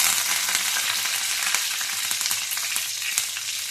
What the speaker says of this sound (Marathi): आपलं तेल गरम झालंय, त्याच्यात 1 चमचा मोहरी टाकू आणि अर्धा चमचा जिरे टाकू।